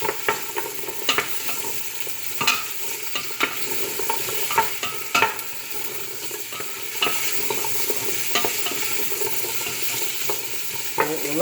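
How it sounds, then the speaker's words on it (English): Onions, carrots and celery sauté in a pot as a soup base. A close, constant sizzle is broken by frequent crisp scraping and clinking strokes of a spoon stirring the vegetables, with no voices. "we're gonna add our onions, and our carrots and celery"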